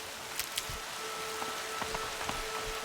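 Steady rain falls in the video game Horizon Zero Dawn, a constant hiss with scattered drops and soft low thumps, heard alone at moderate level.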